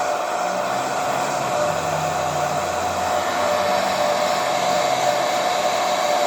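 A hair dryer blows hot air onto a poured acrylic paint canvas, a steady close whirring hum with a constant high whine that runs unbroken throughout, with no voices.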